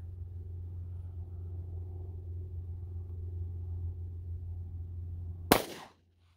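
A single sharp 9mm gunshot from a Taurus GX4 pistol firing Federal ammunition cracks loudly near the end, cutting through a low steady rumble before the sound drops away.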